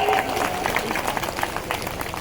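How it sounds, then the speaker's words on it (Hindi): Audience at a beneficiary conference rally in Chanderi clapping steadily throughout, a dense spread of many hands at middling distance with a faint voice underneath. "अगर होना चाहिए तो ताली बजाओ"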